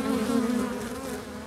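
Bumblebees give a steady, close, low droning buzz that holds an even pitch and wavers slightly in loudness over a brief moment, with no other sounds around it.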